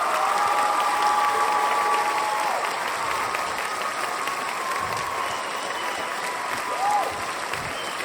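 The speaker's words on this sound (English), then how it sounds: "And so an Earthkeeper round of applause to honor David Hatcher Childress." Steady, full audience applause at a 2015 talk by David Hatcher Childress, many hands clapping continuously at a constant level, with some crowd noise mixed in.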